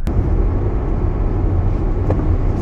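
A Toyota Corona ST191 sedan cruising on the road gives a steady, close low engine and tyre rumble with constant road noise throughout, no talking.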